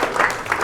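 Brief burst of audience applause at an economic outlook talk by the Federal Reserve Bank of Atlanta, a short patter of clapping from a crowd.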